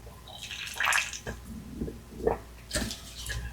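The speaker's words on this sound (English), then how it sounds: "we can thin it with water." Water is poured and mixed into thick acrylic paint, making intermittent wet splashes, squishes and drips at close range with pauses between them and no voices.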